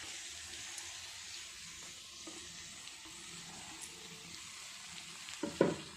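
Lightly pre-cooked mushroom pieces go into frying masala in a pan, giving a soft, steady sizzle with faint stirring and a brief clatter near the end.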